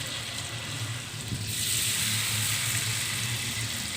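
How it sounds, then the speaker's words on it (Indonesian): Peanut crackers (peyek) fry in hot oil in a wok, giving a steady, dense sizzle that grows slightly louder partway through, close and continuous with no talking. "Dan sekarang saya lanjutkan lagi teman-teman untuk menggoreng sisanya."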